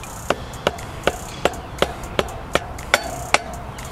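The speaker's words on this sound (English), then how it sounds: "I prefer using a rubber mallet." Rubber mallet knocking a KTM rear axle pin through the wheel hub: nine evenly spaced sharp knocks, moderately loud and close, in a steady rhythm with no talking.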